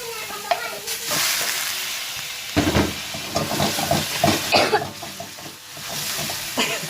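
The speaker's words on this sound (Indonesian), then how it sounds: "Bawang putihnya, cabai, kita tumis aja." Garlic and chili sautéing in a pan, a loud close sizzle and hiss with bursts of stirring and scraping, rising and falling over several seconds.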